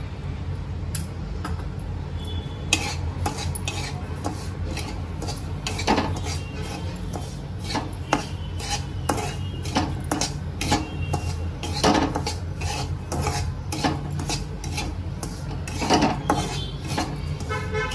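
Mango sheera being roasted in two to three spoons of ghee in a heavy pan, with a spoon scraping and clinking against the metal in steady, irregular strokes over a constant low background hum.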